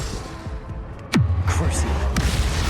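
A fire spell cast in the video game Hogwarts Legacy: one sharp whooshing burst, then a low rumbling roar that carries to the end, over a steady background bed.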